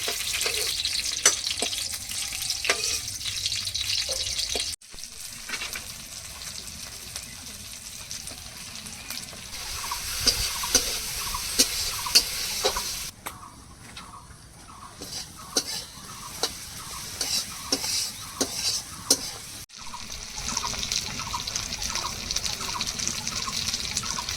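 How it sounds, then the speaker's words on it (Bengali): Eggs sizzle in an oily pan as they finish frying, with a soft continuous crackle and a string of light clicks and taps from a utensil. "ডিম ভাজা হয়ে গেছে, ডিমগুলো তুলে নিচ্ছি।"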